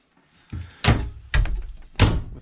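A hanging closet door in a 2021 Grand Design Reflection 278 BH bunkhouse fifth wheel camper is handled: after a soft knock come three solid thuds about half a second apart, close and fairly loud, with no talking.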